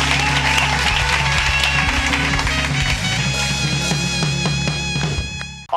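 A studio audience on a Turkish late-night talk show applauds as a guest comes on, the clapping mixed with loud band music that holds sustained tones throughout, then cuts off abruptly at the end.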